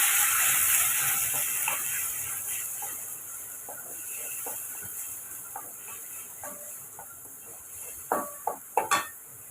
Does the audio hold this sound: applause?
no